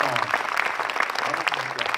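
An audience applauds at a film premiere of Raid dingue in Dorlisheim: dense, steady clapping fills the moment while voices talk over it.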